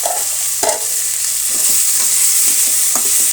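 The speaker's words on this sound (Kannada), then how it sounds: "ಈಗ ಇದರ ಜೊತೆ ನಾನು ನೋಡಿ, ಶುಂಠಿ, ಬೆಳ್ಳುಳ್ಳಿ, ಸ್ವಲ್ಪ ಕರಿಬೇವು ಇಷ್ಟನ್ನು ಸೇರಿಸ್ತಾ ಇದ್ದೀನಿ." Ginger, garlic and curry leaves frying in hot oil in a pan for bread upma. The sizzle is loud and continuous, with a few sharp spatters and scrapes from stirring.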